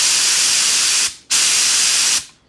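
An Ibis GTI Pro paint spray gun, run at about 2 bar from a regulator, hisses in two loud, steady bursts with a short gap between them, spraying panels for a Mk2 Scirocco build.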